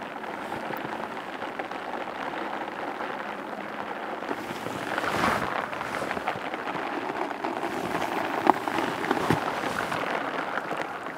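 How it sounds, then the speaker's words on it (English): Heavy rain pours steadily near the corner of a house foundation, with water draining and splashing in a constant close wash that swells briefly midway, no voices present. "It's incredibly satisfying to see the drain shifting so much water in heavy rains like this."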